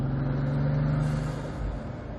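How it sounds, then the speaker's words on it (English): A Bugatti Veyron 16.4 Grand Sport Vitesse accelerates, a loud deep engine drone that holds then eases slightly as the gear changes, heard from close by without speech. "driving the fastest production car in the world"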